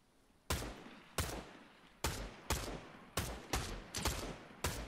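Gunfire in the video game Fortnite, with about eight sharp single shots fired at an uneven pace, each loud crack trailing off into a short echo, standing alone without speech.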